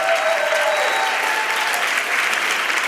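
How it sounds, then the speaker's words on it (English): A conference keynote crowd gives Robin a warm, sustained round of dense clapping that stays steady from start to finish. "very warm round of applause for Robin?"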